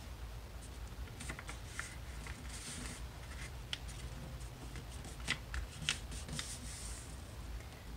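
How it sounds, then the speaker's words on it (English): A sheet of paper folded in half at a craft table, with soft papery rustles and a few sharper creasing taps, close and quiet over a low background hum. "Then you're going to take it and fold it in half."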